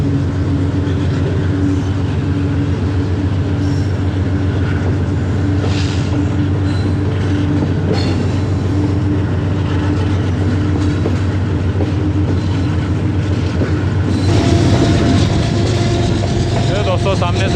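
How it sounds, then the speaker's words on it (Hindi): The 10 Down Allama Iqbal Express from Sialkot to Karachi, hauled by a Blue Tiger AGE30 locomotive, rumbles past loudly and continuously with wheel and wagon clatter, a brief squeal, and a voice talking over it. "दोस्तों सामने से आ रही है 10 डाउन अल्लामा इकबाल एक्सप्रेस, सियालकोट से चली हुई है कराची के लिए"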